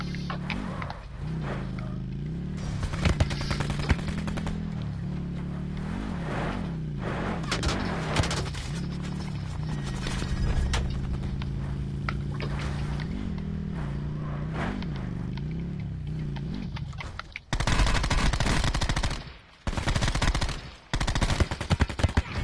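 Loud bursts of rapid automatic gunfire in a battle royale video game, with sustained volleys for most of the stretch and a harsher, denser final flurry, no voices heard.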